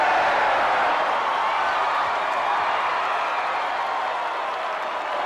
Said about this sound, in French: je veux vous entendre applaudir Wade et son groupe.